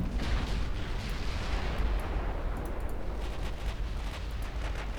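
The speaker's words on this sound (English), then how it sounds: "Light cruisers are exploding." Light cruisers blowing up in a naval battle in Ultimate Admiral Dreadnoughts, heard as a dense, continuous rumble of deep booming blasts and rolling fire that stays loud throughout with no talking.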